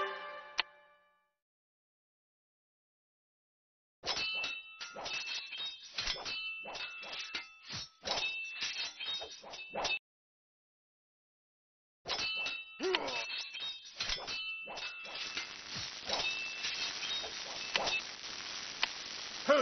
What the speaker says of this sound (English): You hear my bell?